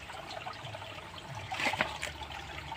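Water from a natural jungle spring trickles and gurgles steadily nearby. It is fairly faint, with a slightly stronger splash partway through, and nobody speaks.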